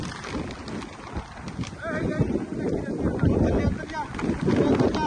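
Gusty wind buffets the microphone in a steady low roar on a Punjab dairy farm while corn silage is covered, with voices talking over it.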